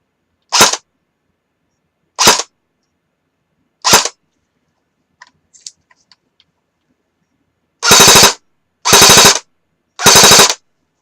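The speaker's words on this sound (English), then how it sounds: "I'll fire a dry round for you and let y'all guys hear it" An air rifle with a silencer fitted, fired dry with no pellet: three sharp, loud, close reports spaced about 1.5 seconds apart, a short pause with faint handling clicks, then three louder reports in quick succession.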